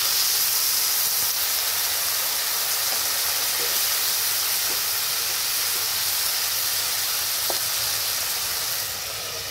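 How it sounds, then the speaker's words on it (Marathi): Water added to a hot pan of potatoes and capsicum gives a loud, steady hiss of sizzling steam that holds evenly, with a few faint clinks, and eases slightly at the very end. "यात आपण थोडंसंच पाणी घालायचं आहे."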